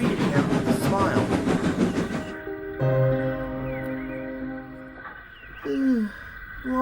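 A train runs along the track toward a junction: dense rhythmic rumbling and clatter for about two seconds, then a steadier tonal engine hum with brief voice-like sounds near the end.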